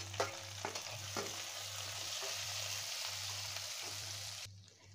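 Onion, capsicum and green chili frying with ginger garlic paste, a soft steady sizzle with a few spatula scrapes early on over a low hum, cutting off just before the end.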